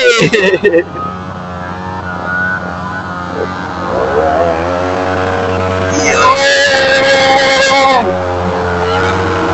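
Car tyres burn out at a car meet-up, a loud, close engine roar with screeching wheelspin that swells and rises in pitch, while voices shout over it.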